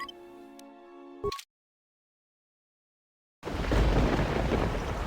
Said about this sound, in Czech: zase prší